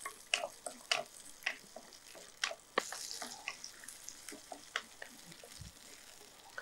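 Small onions sauté for lotus flower rasam, a faint soft sizzle under a series of sharp spoon clicks and taps against the pan at irregular intervals, quiet and close.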